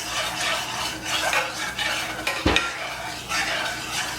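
Sugar being stirred in a pot for lemon meringue tart filling: a spoon scrapes and swirls against the pot in a steady rhythm, with one sharper knock of metal midway, close and alone with no talk.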